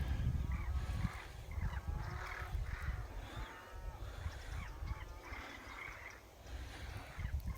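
Crows attack a white bird outdoors on a hike in the Irish countryside, and their repeated harsh squawks come faintly from a distance over heavy wind rumble.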